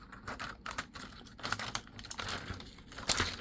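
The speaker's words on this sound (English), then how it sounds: "I'm just going to cut away this outer ring from here because we don't need all this tape on it" Outer ring of tape being cut away around a resin frame, close crinkling and snipping crackles in uneven bursts, quiet and without speech.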